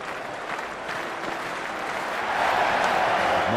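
Cricket stadium crowd during a match, a broad wash of cheering and applause that swells and grows louder toward the end, steady and dense with no clear single voices.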